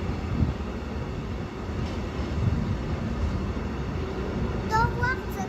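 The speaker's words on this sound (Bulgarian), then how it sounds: "Тоте, то влак за къде ще отива?" A freight train with brand-new wagons rolls past with a steady, continuous rumble and rattle, fairly close, while a child and an adult talk over it.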